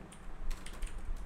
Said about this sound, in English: we're going to start typing our actual code in here to sign in with Google